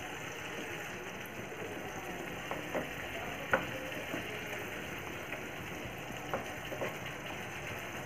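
Spices are stirred into onion curry frying in a pan, giving a steady low sizzle with faint scrapes and clinks of a spoon now and then, close but quiet.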